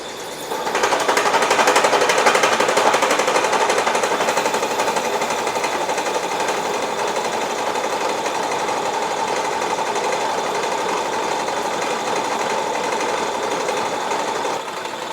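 An old vertical slotter machine makes its final cutting pass, a loud steady mechanical chatter with a fast rhythmic clatter that runs on without a break, and no voices.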